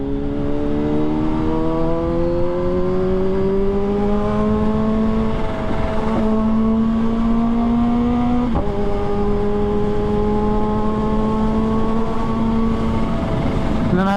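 A Kawasaki ZH2 motorcycle engine pulls hard in fourth gear, its tone climbing steadily in long loud sweeps broken by brief dips at shifts, close and continuous under road and wind noise.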